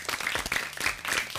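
A studio audience gives dense, steady applause with many hands clapping at once. It is loud and sustained for the whole short stretch, with no voices over it.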